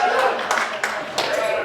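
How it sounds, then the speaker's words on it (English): Scattered clapping from a comedy club audience, a burst of hand claps with a few sharp accents, fairly close and steady over a noisy room murmur. "We got some Catholics right here clapping because they knew the punchline before I said it."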